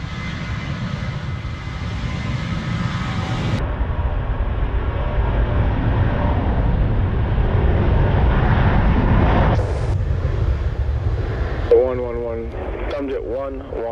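A WestJet jet airliner's engines at the Montego Bay runway make a loud, steady broadband roar that swells and holds throughout, with brief radio chatter near the end.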